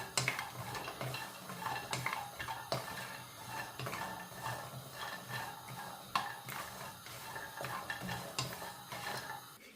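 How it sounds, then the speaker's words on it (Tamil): Walnuts roasted over a low flame and stirred in a pan, giving a close, continuous scraping and clinking of the nuts against the metal, with light ticks throughout and no voices. "இந்த வால்நட்டை கருக்காமல் நாங்கள் வறுத்தெடுத்து கொள்ளலாம்"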